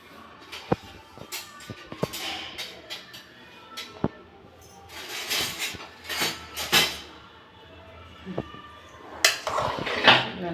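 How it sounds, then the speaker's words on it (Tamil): A metal spoon scrapes and clinks irregularly against a pressure cooker pot as thick, freshly cooked ven pongal (rice dish) is stirred close by. "நல்லா கிளறி விட்டுக்கலாம்."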